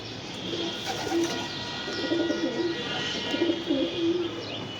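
Soft, low coos from pigeons kept in a room repeat in short rounded phrases, moderately close, over a steady background hiss with a few faint chirps.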